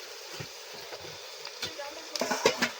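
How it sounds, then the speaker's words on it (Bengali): Onions frying in a pan for biryani, a soft sizzle with scattered crackles and stirring scrapes that grows busier and louder toward the end, close by and with no talking. "পেঁয়াজ ভাজা চলছে।"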